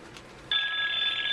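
An office telephone line rings, a sharp electronic bell tone cutting in abruptly after a faint quiet start and holding steady to the end.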